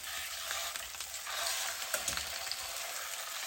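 A butterflied pork chop frying in a pan, giving a steady, close, dense sizzle with small crackling pops and no talking.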